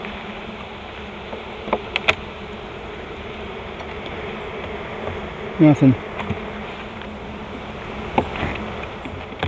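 Honeybees in an open hive during an inspection give a steady, soft hum, with louder buzzing swelling briefly near the middle as a few bees pass close. Faint handling sounds occur now and then.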